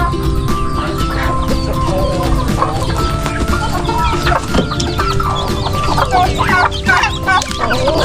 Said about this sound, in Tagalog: manok naman to.